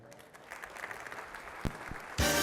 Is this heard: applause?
yes